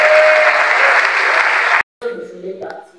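A crowd bursts into loud sustained applause that cuts off abruptly, followed by a moment of quiet and some faint background sound.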